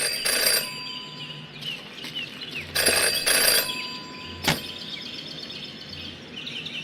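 A phone rings in the video game Jenny LeClue, loud repeated double rings followed by a short sharp click, over soft ambient background without speech.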